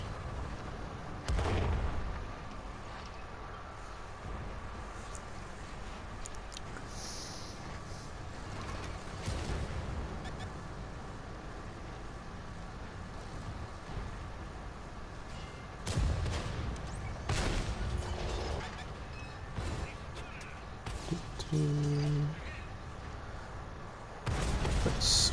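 Tank cannon shots in World of Tanks on PS4, featuring the Progetto 54 tank: several heavy booming blasts spaced across the stretch over a steady rumbling battle backdrop, with no talking.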